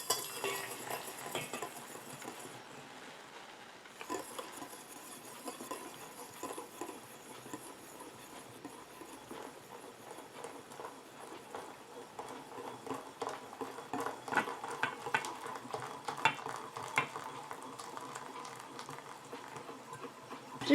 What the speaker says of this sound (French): Et j'ajoute ma phase aqueuse tout en mélangeant.